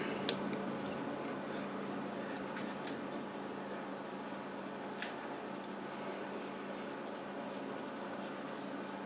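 Soft, steady rubbing as shellac-based sanding sealer is wiped onto the bark of a turned staghorn sumac wood bowl, close and quiet, with faint light ticks and scratches scattered throughout.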